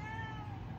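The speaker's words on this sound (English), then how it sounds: "that's my cat" A pet cat meows close by, a short tonal cry held over a steady background hum.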